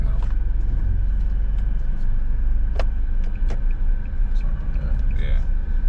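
A car engine rumbles steadily from inside the vehicle during a driving licence test manoeuvre, a constant low drone with a few small clicks and knocks.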